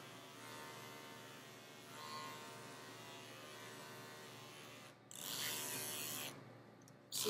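Andis dog grooming clippers with a faulty blade drive make a steady mechanical buzz with a ratcheting rattle, then a louder, harsher burst of grinding near the end.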